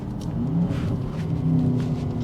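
Twin-turbo engine of an Aston Martin DBX pulling under acceleration, a steady low rumble with a rising whir, heard from inside the cabin.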